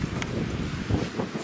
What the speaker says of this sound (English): the wind is just crazy today